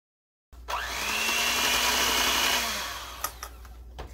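An electric hand mixer whirs through keto brownie batter made with baker's chocolate, starting abruptly and running at a steady high whine for a few seconds before slowing, followed by clicks and knocks.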